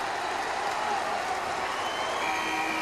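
Dense, steady crowd roar filling a college basketball arena as Marquette plays at Villanova, loud and continuous with no break, a wall of cheering voices.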